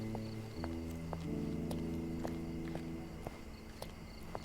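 Running footsteps in the video game Sherlock Holmes Chapter One, a steady run of regular footfalls roughly twice a second, moderately loud over sustained droning musical tones.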